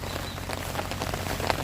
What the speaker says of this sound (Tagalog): Pasaway na ulan po.